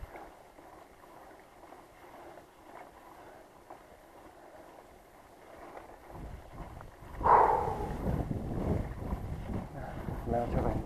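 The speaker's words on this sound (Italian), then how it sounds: "Almeno c'è vento." Wind rushes past on a climb up Monte Serpeddì, a faint steady blowing that swells into louder, closer buffeting against the microphone partway through.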